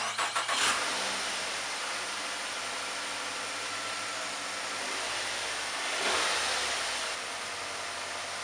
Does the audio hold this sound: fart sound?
no